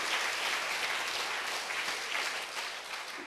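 A church congregation applauds at a Sunday worship service at Sanseong Church, a dense, steady wash of many hands clapping throughout, moderately loud and without speech.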